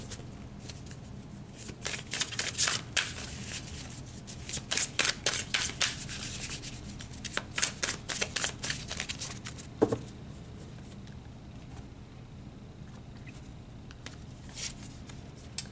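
Tarot cards being shuffled, several bursts of quick papery riffling and flapping separated by quieter gaps, close and moderately loud, with one sharp tap partway through and no talk.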